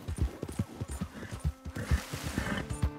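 A horse being groomed in Red Dead Redemption 2: soft rhythmic brushing strokes and low hoof-like thumps repeat steadily up close, with faint game ambience underneath.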